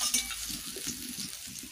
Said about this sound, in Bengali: ছোট মাছগুলো ভেজে নেব।